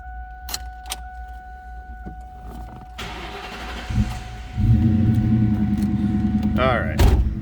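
Keys jingle and clicks, then a 1999 Ford Mustang GT convertible's V8 cranks and catches into a deep, loud rumbling idle that swells briefly with a rev.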